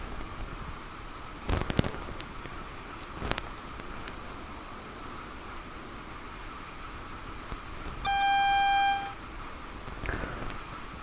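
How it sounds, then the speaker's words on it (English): A single sustained electronic AWS alarm beep from a train cab in Train Sim World sounds for about a second over a steady background rumble of the running train, with a few faint clicks around it. "So that was our AWS alarm."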